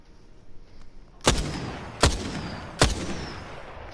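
Three sharp, loud gunshots from a weapon in the video game Apex Legends ring out alone at an even, spaced rhythm, each one followed by a short, fading tail.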